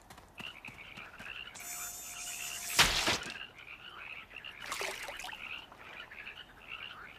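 Frogs croak repeatedly at a pond in a French-dubbed cartoon, a chorus of rhythmic croaks with a sharp thunk partway through, no talking.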